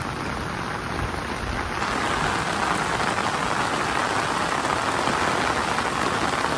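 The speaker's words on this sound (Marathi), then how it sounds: "फुल पाऊस आहे." Heavy monsoon rain pours down in Konkan during a thunderstorm over flooded fields, a dense, loud, steady hiss of rain with no break.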